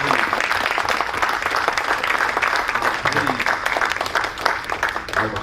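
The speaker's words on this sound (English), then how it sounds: "Just give our panelists a hand clap," Lively audience applause for panelists, close and continuous clapping with some voices talking and cheering mixed underneath.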